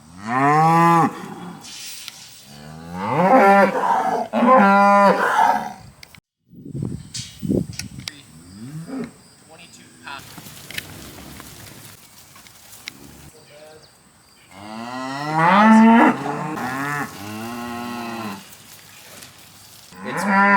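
Cattle being sorted on a farm moo repeatedly, long drawn-out lows close by, with a few gaps of quieter farmyard noise between the calls.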